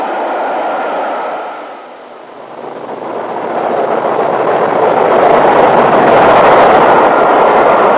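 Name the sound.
northbound Royal Scot express train passing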